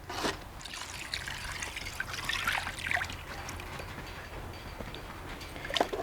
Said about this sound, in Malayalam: ഏഴ് കപ്പ് രണ്ടാം പാലും നമുക്കിപ്പോൾ ഇതിലേക്ക് അങ്ങ് ചേർത്ത് കൊടുക്കാം